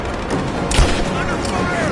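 Suppressing gunfire in the Tomb Raider video game, a brief muffled burst with a sharper crack near the middle over a dense battle din.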